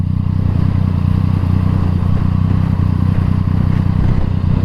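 A Yamaha MT-09 with an Akrapovic exhaust rumbles loudly and steadily while being ridden along the coast near Manly, Sydney, its low engine drone continuous throughout with no talk.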